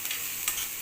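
Food frying in a pan gives off a steady, faint broadband sizzle throughout, with a faint scrape of stirring and no talking.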